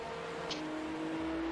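Race car engine droning steadily in the iRacing sim at Bathurst during a 12-hour race, a sustained tone with no clear pass-by swell, while another car is overtaken.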